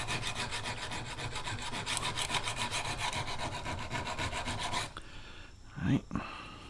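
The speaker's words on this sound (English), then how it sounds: "Let's polish the other side. Turn the file backwards." A hand file rasps rhythmically along a steel traditional broadhead in quick, even back-and-forth strokes, close and fairly quiet, then stops with a few small handling knocks.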